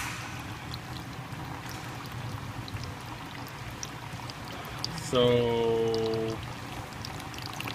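Overfilled engine oil mixed with water drains from a car, a pouring, trickling stream running steadily under a brief spoken word, joined midway by a short tonal hum.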